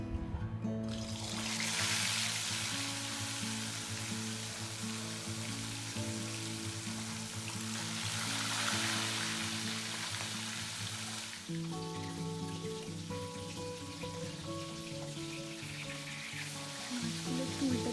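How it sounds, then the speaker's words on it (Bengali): Marinated puti fish fry in hot mustard oil in a kadai, a steady loud sizzle and crackle like rain that runs throughout, with faint tonal music underneath. "কড়াইতে সর্ষের তেল নিয়েছি তেলটা গরম হলে আমি লবণ হলুদ দিয়ে ম্যারিনেট করে রাখা মাছগুলোকে ভেজে নেবো"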